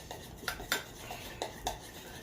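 A spoon stirring keto coffee in a cup, several quiet metallic clinks against the sides at an uneven rhythm, close and alone.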